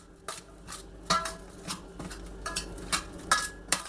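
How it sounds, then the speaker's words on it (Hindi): Metal spoon scraping and clinking against a bowl while mixing spiced chilli pickle, a run of about nine irregular bright knocks with soft scraping between them, close up and with no talking. "अब हाथ वाथ सब दूर और इनको चम्मच से कर लीजिए अच्छे से मिक्स"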